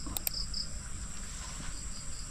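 Insect buzzing at a wild bee nest in forest farmland, a steady high drone with a few sharp clicks near the start, over low outdoor rumble.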